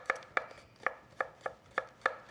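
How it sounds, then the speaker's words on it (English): A knife chops food into half-moon rounds on a board, with seven crisp, evenly spaced cuts at a steady rhythm, close and clear, with no talking. "You can cut it like that in half, and then you have kind of half moons."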